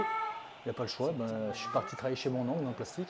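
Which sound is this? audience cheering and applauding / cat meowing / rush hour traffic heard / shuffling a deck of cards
cat meowing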